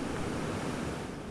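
Steady, dense roar of rushing whitewater from a waterfall where kayakers paddle, a continuous broadband wash with no breaks or voices, fairly faint throughout.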